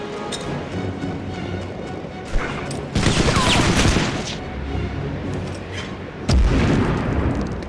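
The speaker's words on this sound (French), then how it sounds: "on va essayer de balancer une grenade" Grenade blast and battlefield gunfire in the Medal of Honor remake on a snowy mountain pass, with loud booming bursts over continuous combat noise.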